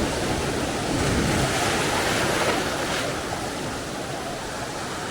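Sea waves at Calangute beach, Goa, roar continuously in a dense, loud wash of surf, with wind buffeting the microphone and no clear breaks between breakers.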